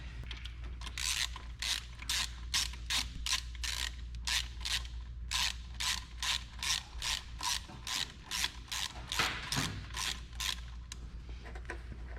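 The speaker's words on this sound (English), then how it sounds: "Put them all in and then sink them, start spinning them down so that they bite in there." A ratchet spins bolts down one after another, a steady run of loud, close clicking bursts with brief pauses, under a constant low hum.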